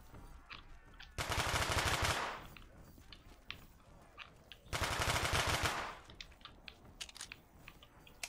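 Two sustained bursts of automatic gunfire from a small gun in a Black Ops 3 zombies custom map, each lasting about a second, loud and rapid, separated by quieter in-game sounds and clicks.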